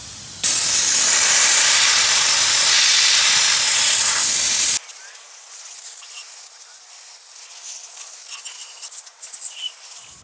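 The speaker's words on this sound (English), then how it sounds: "This is a little engine cleaner brush from Harbor Freight. Hooks the compressed air here. This little tube goes down here to a can of mineral spirits." Harbor Freight engine cleaner brush spraying mineral spirits with compressed air, a loud steady hiss lasting about four seconds that cuts off abruptly, followed by quieter faint handling noises.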